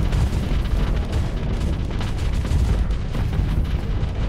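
A spaceship blows apart in the space combat game Starsector, producing a sustained, loud, rumbling barrage of overlapping booms and crackling bursts that rolls on without a break.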